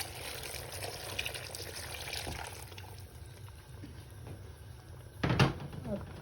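Water is poured into a pot of spicy beef stew, a soft trickle and splash that ends in a brief louder pour near the finish.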